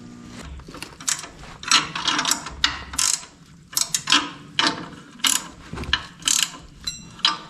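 A ratchet tightening U-bolts on a 1966 Chevy one-ton dually: close, crisp clicking bursts in quick repeated strokes, each a rapid rattle of pawl clicks, with short pauses between pulls and no voice over it.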